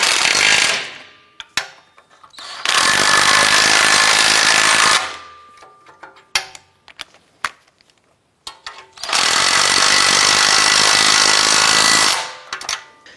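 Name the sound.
tightening nuts down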